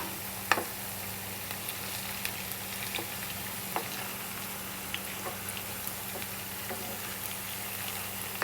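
Cabbage vadas frying in hot oil: a dense, even sizzling hiss with occasional sharp crackles and pops, close-up and steady throughout, with no voices.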